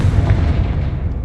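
Confringo explosive spell cast in Hogwarts Legacy: a heavy, booming blast with a low rumbling body that stays loud and near, then tails off briefly, alone without speech.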